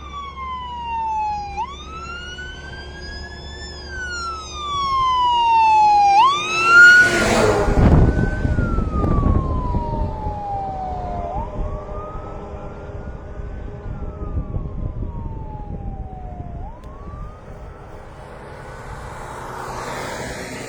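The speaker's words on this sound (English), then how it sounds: "Emergency vehicle." An emergency vehicle siren wails in rising and falling sweeps, loud and fairly close, cutting off briefly before resuming with a slower wail that fades out; a burst of rumbling noise passes midway.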